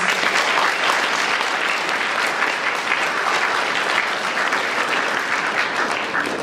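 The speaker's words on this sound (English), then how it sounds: "So let's give you all a round of applause" Steady, dense audience applause at a junior honor society induction ceremony, a full roomful of clapping holding at an even level from start to finish with no break.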